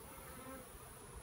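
Honeybees buzz as a hive is transferred from a nuc box, a faint, steady drone with low handling noise beneath it and no talking.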